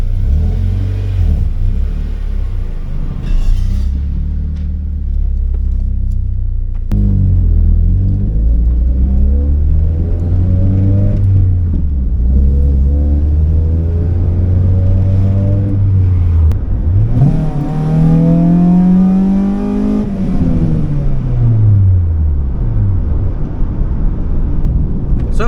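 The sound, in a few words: car engine running and accelerating on a test drive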